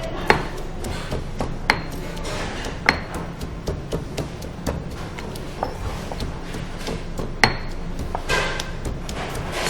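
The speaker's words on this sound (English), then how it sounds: "I'm going to use the good old mortar and pestle." Garlic pounded with a chunky mortar and pestle in a Fijian resort kitchen, giving repeated sharp knocks at an uneven, steady pace for nearly ten seconds, with faint background kitchen noise.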